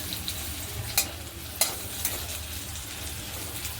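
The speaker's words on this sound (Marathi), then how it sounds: "आता यामध्ये दोन मिनटं झाकून ठेवून झाकून ठेवून फ्राय करतो" Stuffed green chilies fry under a lid in a pan, giving a steady soft sizzle with a few brief clicks and clatters, and no voices.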